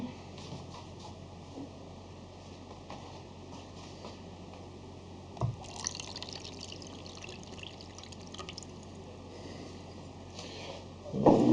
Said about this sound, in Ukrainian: Зараз наливаємо води.